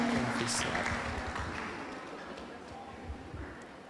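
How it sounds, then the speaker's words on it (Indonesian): An audience at a graduation send-off for psychology students applauds, a dense wash of many hands clapping that slowly fades over four seconds, with a voice faintly audible. "kita berikan tepuk tangan dan sekali lagi selamat kepada kakak-kakak semuanya"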